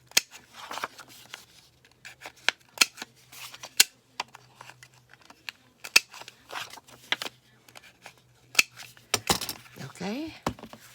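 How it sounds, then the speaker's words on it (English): Scissors trim the corners of paper for a no-sew journal, making repeated sharp snips close by with quiet paper rustling between cuts; a voice is faintly heard toward the end. "trim the corners here too."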